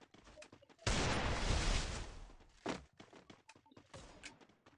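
Gunfire in the Free Fire video game, a loud, sustained burst of shots followed by a single sharp shot and scattered faint thumps.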